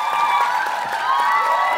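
A TV studio audience applauds and cheers loudly in a dense, continuous burst.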